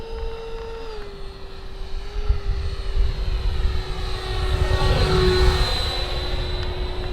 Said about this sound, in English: Holy sport jet, Batman